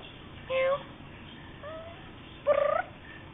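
A cat meows in short, separate calls at close range. Three brief cries arrive in about three seconds, and the last is the loudest and most drawn out, over a quiet room.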